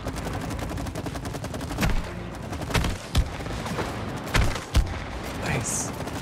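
Gunfire from the video game It Takes Two as players shoot swarms of bugs: rapid repeated shots with several louder bursts, while people talk over the action.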